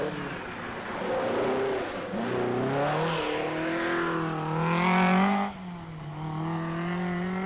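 Renault 5 Turbo rally car driven by Ragnotti on dry mountain roads at the 1981 Monte Carlo Rally, its engine loud and close, revving and shifting pitch as it accelerates and changes gear through the stage.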